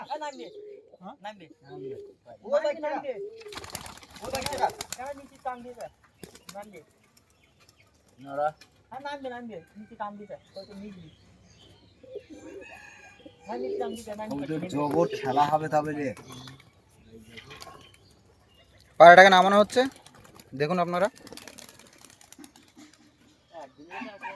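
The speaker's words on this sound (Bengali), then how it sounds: "দেখুন পায়রাগুলো দেখুন বন্ধুরা" Pigeons at a home loft give soft cooing and brief chirps, scattered through the clip under frequent nearby talk.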